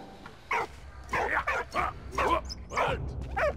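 A dog in the World War I video game Soldats Inconnus: Mémoires de la Grande Guerre gives a series of short, yappy barks and whimpering yips in quick succession, close and fairly loud.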